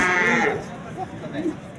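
A fattened bull lows once, short and fairly close, at a busy livestock market in Sirdaryo with crowd noise and talk around it.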